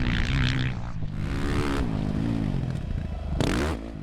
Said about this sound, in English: You can see that I've been able to nail all of the jumps comfortably on board the Ducati